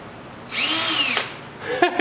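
A power drill runs with a bent drill bit for about a second, a high whining spin that starts abruptly and cuts off, during windshield frame work on a 1972 Triumph GT6 restoration, followed by a brief clatter.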